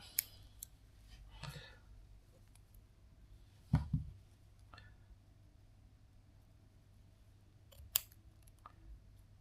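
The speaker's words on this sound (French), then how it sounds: "Je continue à couper les liserés." Scissors snip along the lace edges of a weft hair prosthesis, with a few sharp, close cuts spaced apart over a low steady room hum.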